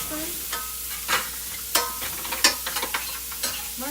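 Pre-minced garlic stirred into a hot frying pan while making sourdough stuffing, with soft sizzling under repeated scraping strokes of a utensil against the pan.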